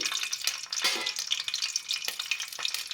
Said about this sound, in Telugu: ఇప్పుడు ఆయిల్ వేసుకుందాం. ఆయిల్ వేడయ్యాక సోపు,